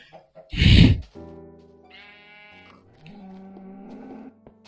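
Cow in the Minecraft video game gives a loud, drawn-out moo near the start, followed by quieter animal calls and faint game sounds.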